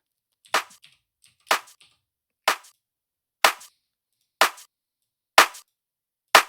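A compressed house-music snare or clap drum sample in Cubase hits seven times at an even pace of about one per second, each a sharp, bright, dry crack on silence.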